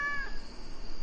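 A cat in the farming game Stardew Valley gives one brief, high meow right at the start, then a thin electronic tone lingers quietly.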